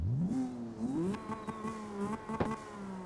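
A car engine in CarX Drift Racing Online revs up and settles into a buzzy, whining drone with strong harmonics, then shifts pitch a couple of times, loud and close with no one speaking.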